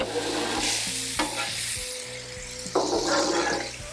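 Garlic sizzling in bacon fat on a Blackstone flat-top griddle, a close, busy crackle with scraping spatula strokes and a few sharp clanks, no voices.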